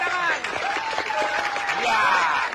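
Studio audience applause on a TVRI quiz show, a steady dense patter of clapping filling the whole stretch, with a host's voice and whistle-like tones weaving over it.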